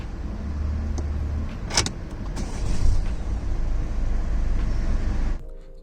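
A 2021 Peugeot 3008 Active Pack with a 1.5 BlueHDi diesel engine starts by push button with a brief crank, then settles into a steady idle rumble that holds before cutting off, with no voices.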